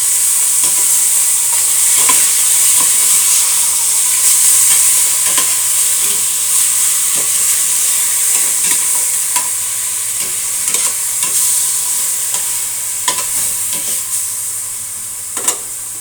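Chicken pieces frying in a pan for tinola, a loud constant sizzling hiss with scattered clicks and scrapes as it is stirred, close up with no talk.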